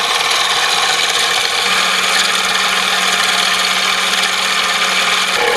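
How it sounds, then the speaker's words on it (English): A machine drilling metal for a model steam engine, a steady high whirring hiss with a faint underlying hum, continuous and close, with no talking. "again a straightforward drilling operation"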